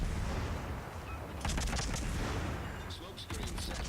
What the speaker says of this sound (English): But I'm still getting the torpedo hits.